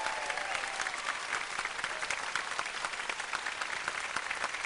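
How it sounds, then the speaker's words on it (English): A studio audience at a Nickelodeon taping in Orlando claps steadily, with dense, even applause holding at a moderate level throughout and no voices over it. "A round of applause for these people."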